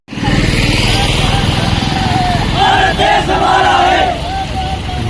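A crowd of Bhil community protesters in Jaisalmer chants slogans loudly, voices rising in rhythmic shouts over steady engine and street noise as they march to the collectorate.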